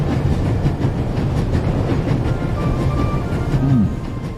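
Train cars rolling on rails in the video game The Raven Remastered, a steady, loud, continuous rumble with faint metallic squeal tones over it.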